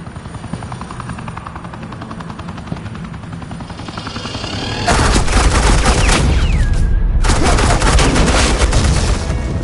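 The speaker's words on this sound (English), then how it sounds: "Suppressing fire." Video-game suppressing gunfire in a Batman game erupts halfway through as a loud, dense automatic barrage. It plays over a steady helicopter-like rotor drone and briefly cuts out before resuming.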